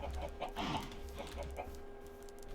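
Minecraft chickens cluck in a quick, uneven series of short notes over a steady low hum, with one louder squawk-like burst near the start and no talking.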